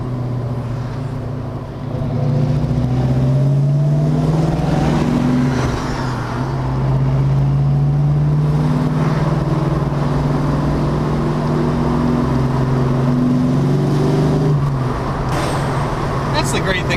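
A 1973 Plymouth Cuda with a numbers-matching 340 cubic inch V8 accelerates on a test drive, its engine droning and rising loud and steady from the cabin for the whole stretch, with voices talking over it.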